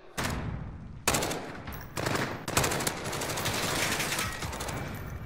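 Grau 5.56 assault rifle firing in Modern Warfare, several sustained automatic bursts with short gaps between them, loud and close, with no talk over the shots.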